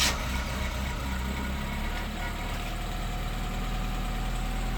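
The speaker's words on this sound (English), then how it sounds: "I just let the fuel pump kick a bit." A car engine runs at a steady idle just after the fuel pump primes, a loud, continuous mechanical drone with no pauses.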